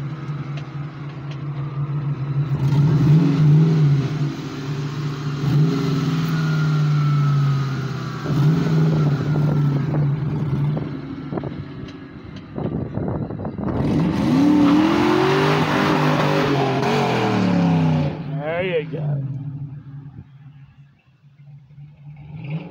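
A Ford Mustang engine revs hard and accelerates, rising and falling through the gears, loud and close for the whole stretch, with a sharp climbing surge near the end and no talking.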